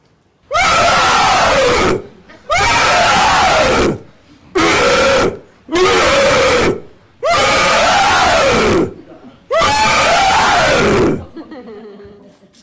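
Six loud, harsh, drawn-out metal-style vocal screams, one after another with brief pauses between, close and intense, at a singing workshop.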